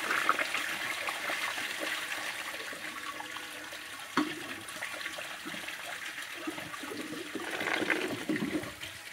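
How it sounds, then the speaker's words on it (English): A 1995 Eljer Savoy toilet flushes in a steady rushing swirl of water, with a brief clunk partway through and a gurgling surge near the end. "Sounded like a urinal flush."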